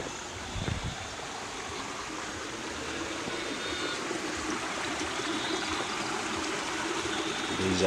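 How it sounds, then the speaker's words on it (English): A river runs beside footpaths near a bridge in Kisumu, Kenya, giving a steady broadband rush of flowing water that holds even and fairly close throughout, with no talking. "There's a river."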